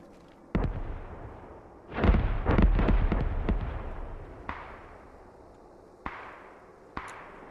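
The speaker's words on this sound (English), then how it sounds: "Some grenade launchers, probably from Joker, coming inside the house," Grenade launcher rounds from a military shooter game strike a house and its windows, a sharp blast followed by a rapid cluster of booming explosions, then a fading rumble and two more isolated detonations near the end.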